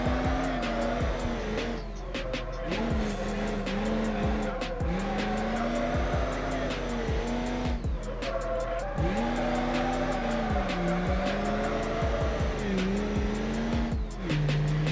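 A diesel-engined car in BeamNG.Drive drifts with a droning, rising and falling engine note and long, repeated tire squeals as it slides. The sound is close and continuous, with no talking.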